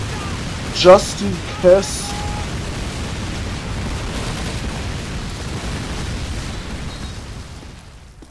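A grenade blast in Call of Duty 2 sets off two sharp pops close together near the start, then a long, steady rumbling wash that slowly fades, with a voice talking briefly.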